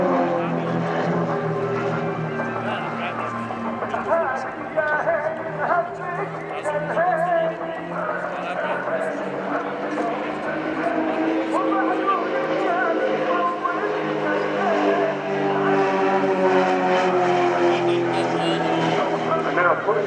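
Display team aircraft pulling up into a loop at the RIAT Fairford airshow, a broad sustained engine roar that rises and shifts in pitch as the jets climb, steady and loud throughout with crowd or commentary voices underneath.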